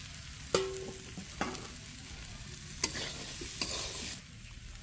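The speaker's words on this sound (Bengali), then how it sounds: "তো এবার সেই আলুগুলো দিয়ে দিব।" Three medium boiled potatoes go into a hot pan of ghugni cooked with goat fat and are stirred. A soft sizzle runs underneath while a spoon scrapes and knocks against the pan several times, close by.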